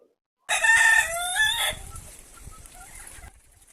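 Inside a laying hen house on a poultry farm, a rooster crows loudly and close by, then hens cluck and murmur more softly as the sound fades away.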